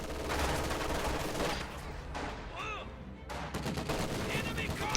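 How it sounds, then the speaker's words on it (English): Rifle grenade explosion and heavy gunfire in a video game battle, dense rapid shots and bursts throughout with a sharp blast near the middle, loud and continuous, with a voice talking over the combat. "Nice rifle grenade right there."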